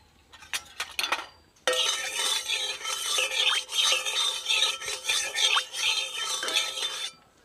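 Potatoes fry in mustard oil in a kadai over a village stove, a steady bright sizzle starting after a short stretch of faint clinks and continuing close and loud with occasional utensil scrapes.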